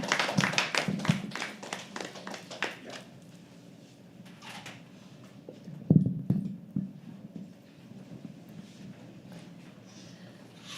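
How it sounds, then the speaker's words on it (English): An audience at a live poetry open mic claps for a poet walking up to the stage, with a dense burst of hand claps in the first few seconds that thins out into scattered taps, shuffling and a brief knock. "Keep clapping. Everybody."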